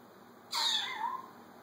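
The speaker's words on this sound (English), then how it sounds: "Is that a cat?" A single cat meow rises clearly out of a quiet room, lasting under a second before fading.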